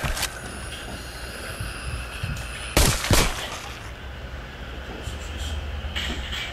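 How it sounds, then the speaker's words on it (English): Gunfire in a VR shooter game on a Quest 2 comes as a few sharp bursts amid a steady background rumble, with a louder cluster of shots near the middle. "Wasted a lot of bullets on this person."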